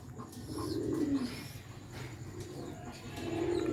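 A Sialkoti pigeon coos close by in soft, low, repeated rolling calls, with faint chirps of other birds in the background.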